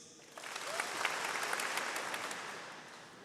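A graduation ceremony audience claps together in a dense burst of applause lasting about three seconds, moderately loud, then fading.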